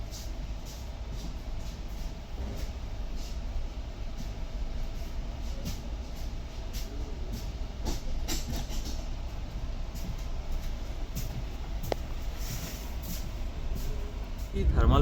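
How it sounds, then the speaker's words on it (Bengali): A train pulls out of Jangipur Road station, a steady broadband rumble of wheels and carriages rolling on, with a voice talking over the continuous noise. "ট্রেনের সিগন্যাল হয়ে গেছে, ট্রেন ছাড়ছে জঙ্গিপুর রোড স্টেশন"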